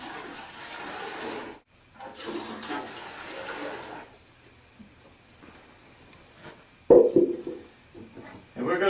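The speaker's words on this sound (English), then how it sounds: "We're going to pour in the clean water." Clean water is poured into silt fence test pots, a splashing, rushing pour that stops and restarts with short pauses and a loud final burst, with a voice speaking briefly.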